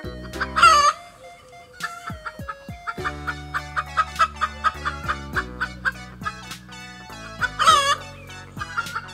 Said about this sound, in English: Number 3, chickens.